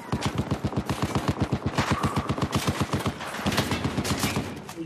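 Rapid automatic gunfire in Battlefield 4, a long burst of evenly spaced shots at a fast steady rhythm, loud and close, with a brief break and a second stream of fire joining near the end.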